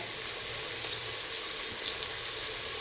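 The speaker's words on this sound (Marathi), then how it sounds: "आता हे छान मस्त परतून घेऊया परत." A masala rice mixture for Khandeshi masala bhat sizzles as it is sautéed in a pan, giving a steady, faint frying hiss throughout with no voices.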